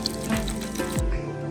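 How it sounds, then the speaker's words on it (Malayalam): Water is poured into a simmering curry in a pan, giving a short splashing trickle over the sizzle, with a couple of spoon clinks against the pan. "ആവശ്യത്തിന് കുറച്ച് വെള്ളം ചേർത്ത് കൊടുക്കാം"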